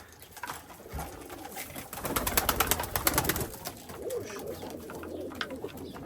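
Pigeons coo softly at a breeder's loft in Elazığ, a low repeated throaty cooing with occasional wing flutters, fairly close and quiet.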